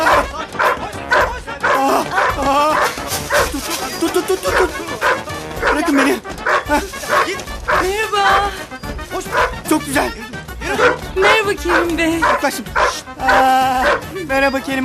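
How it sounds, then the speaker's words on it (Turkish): A small dog in a Turkish television comedy scene gives repeated yips, barks and whimpers in quick bursts, close and loud, while people talk over and between the barking. "Hoş köpekçik."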